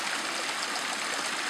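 A mountain stream rushes steadily through a ravine, a loud, continuous broadband wash of flowing water heard up close with no voices.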